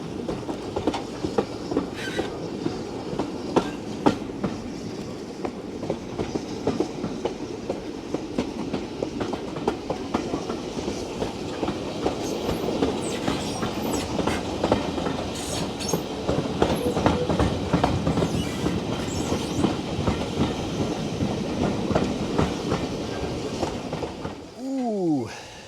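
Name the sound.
Swanage Railway steam train running on tracks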